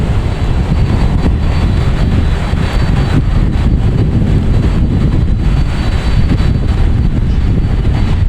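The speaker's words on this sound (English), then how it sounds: "next taking off is a JetBlue heading to JFK, an A220." A JetBlue Airbus A220 takes off from Boston Logan bound for JFK, a loud, continuous engine rumble with wind buffeting the microphone the whole way through.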